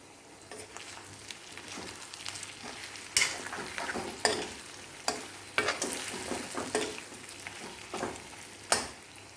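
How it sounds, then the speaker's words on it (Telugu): Spicy country chicken is stir-fried over a low flame, with a soft steady sizzle broken by repeated loud scraping stirs and clacks of a spatula against the pan, close and without talk. "బాగా కలిసేలాగా తిప్పుకుంటూ సిమ్లోనే పెట్టుకుని వేయించుకోండి"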